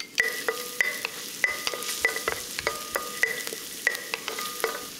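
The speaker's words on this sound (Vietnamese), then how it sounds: "Dầu nóng thì mình cho tỏi băm vào phi thơm." Minced garlic frying in hot cooking oil in a pot on the stove for Thai-style steamed clams, a steady sizzle broken by repeated clinks and scrapes of a utensil stirring against the pot.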